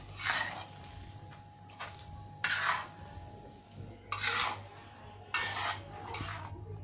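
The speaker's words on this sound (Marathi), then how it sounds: "साईडने ही जी भाजी आपण तयार केलेली ती यामध्ये मिक्स करत जायचं आहे." A spoon scrapes and stirs pav bhaji vegetables around a pan in about five distinct strokes, close and fairly quiet, with no voices.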